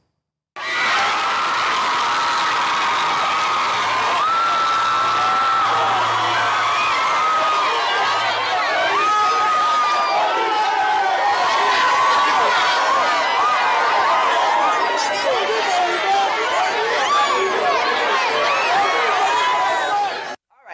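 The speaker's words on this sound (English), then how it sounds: "Obi received a rousing applause as he handed over the checks to the nurses." Lively crowd noise with cheering and shouting fills a busy gathering as Peter Obi hands checks to nurses, a dense, continuous roar of voices lasting throughout with no clear words.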